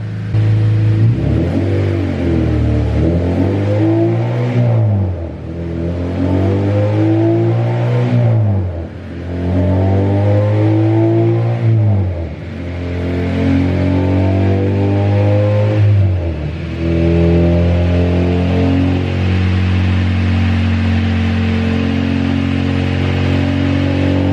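A K24-powered Acura Integra on a dyno burning M1 methanol, engine revving repeatedly in long rising pulls with brief drops between them, loud, close and alone without talk.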